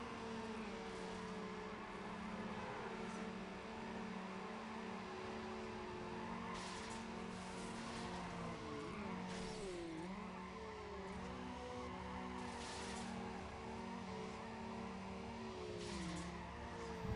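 A car in Need for Speed Underground, driven with traction control on, revs steadily with engine pitch rising and dipping through shifts while tires squeal in skids, continuous and close throughout.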